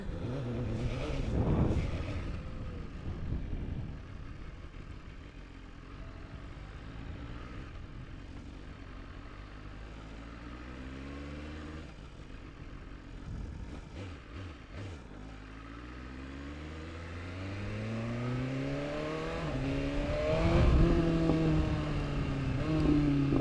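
A BMW S1000RR motorcycle pulling away and accelerating, its engine note climbing through rising revs and gear changes, heard at moderate distance and growing louder toward the end.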